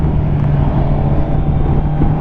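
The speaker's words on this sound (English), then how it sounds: "Quite a bit of engine braking I'm finding coming off the throttle." Steady motorcycle engine drone from a Honda CBR650R under engine braking off the throttle, heard on board as a constant low rumble mixed with wind rush, with no talking.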